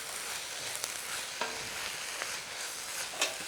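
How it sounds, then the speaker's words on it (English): Leafy greens sauté in a hot pan with a continuous sizzle, broken by a few sharp clicks and scrapes of stirring, close and alone without talk. "The green is sauteed about 2 minutes."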